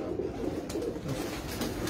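A racing pigeon cooing nearby, soft low rolling coos repeating in a steady rhythm over a quiet background, with no voices.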